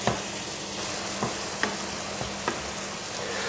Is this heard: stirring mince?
yes